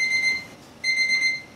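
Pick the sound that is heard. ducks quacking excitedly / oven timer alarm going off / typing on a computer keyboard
oven timer alarm going off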